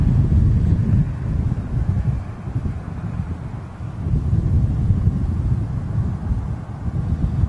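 Strong wind buffets a microphone outdoors at London Heathrow Airport, a loud, continuous low rumble that swells and dips, with no voices.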